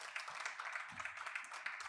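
Applause from a seminar audience for the event team, a dense continuous patter of clapping heard at a moderate distance, holding steady for a couple of seconds.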